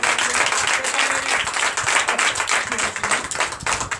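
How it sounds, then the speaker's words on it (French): Congregation applauding during a Sunday church service in Comé, Benin, with brisk, close, crisp clapping from many hands sustained across the whole stretch, fairly loud and even. "Donc je vous demande d'applaudir très fort."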